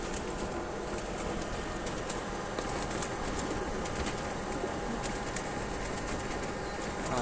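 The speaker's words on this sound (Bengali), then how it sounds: "এটা হচ্ছে হুমার করস, এটা হচ্ছে নর, ডিম নিয়ে বসে আছে" Homing pigeons in a loft coo softly, a male settled on eggs, with low murmuring calls over a constant busy background of bird sounds and light rustling.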